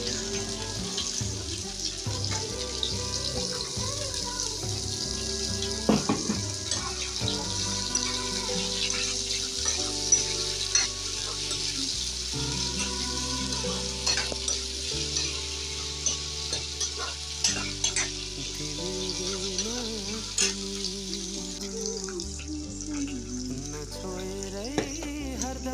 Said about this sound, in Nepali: अब हाल्छु मैले आलु।